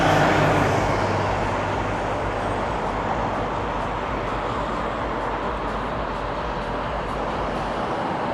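A Dufferin city bus rolls through Toronto street traffic, a loud rumbling pass close by at the start that eases into a steady roar of roadway noise.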